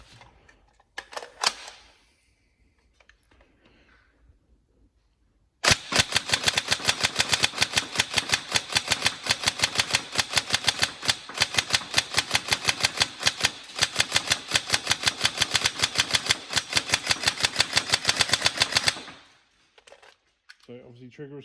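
A Tokyo Marui MK18 NGRS airsoft electric gun fires a long rapid burst of sharp, evenly spaced mechanical clacks lasting about thirteen seconds, loud and close, preceded by a few handling clicks and ending in quiet.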